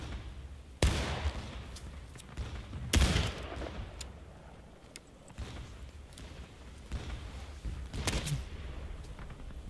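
Bullets whizzing past in the Civil War game War of Rights, heard as a few sharp musket-fire cracks spaced across a steady outdoor battlefield rumble, with short zips between them.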